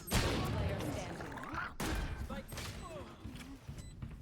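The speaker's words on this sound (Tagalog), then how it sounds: "Sino yung gumamit ng baril na yun?" Gunfire in the Valorant video game comes as sharp, dense bursts of shots and impacts, with a loud crack near the start and another partway through, mixed with game effects and a voice speaking over it.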